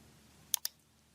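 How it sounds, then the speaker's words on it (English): Computer mouse clicked on a toolbar button, two sharp close clicks in quick succession against a quiet background. "let's click New Node in the toolbar"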